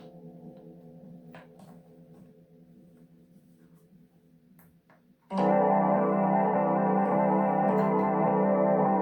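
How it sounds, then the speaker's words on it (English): An MVAVE SMK 37 Pro musical keyboard with an echo effect. A soft sustained tone shifts abruptly into a louder, thick, reverberant chord that holds with a dense echoing wash. "Very echoey, isn't it?"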